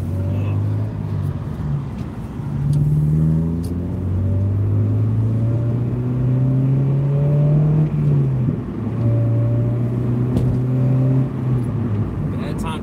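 A car drives along, its engine droning low and rising and falling through gear changes over road rumble, while someone talks on and off inside the cabin.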